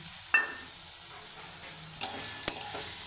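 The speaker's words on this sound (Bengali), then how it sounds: "মশলাটার মধ্যে এখন আমি মটরগুলো দিয়ে নিই" Peas go into spice paste frying in a pan, giving a steady soft sizzle with a few sharp clatters and stirring knocks, close and without talk.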